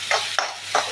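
A spoon stirs scotch and coconut curry in a pan, giving three short scraping strokes over a faint sizzle, close and moderately quiet.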